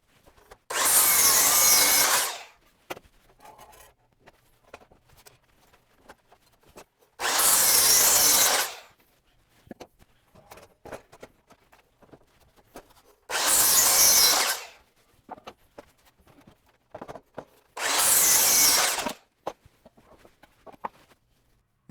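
A power saw cuts wooden boards for homemade tire ramps in four loud, separate passes of about two seconds each, with quiet handling noises between the cuts.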